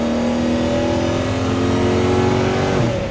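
A 1966 Chevrolet Nova with an LS engine swap accelerates hard. The engine note is loud and close with a steady, rising drone, ending in a brief shift near the end, and no one speaks over it.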